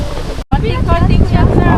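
Wind buffets the microphone at a beach in a steady, loud rumble, with a brief dropout near the start.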